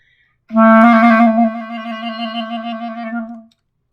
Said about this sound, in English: so you're trilling here